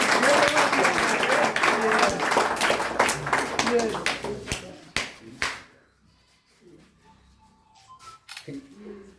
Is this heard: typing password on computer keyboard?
no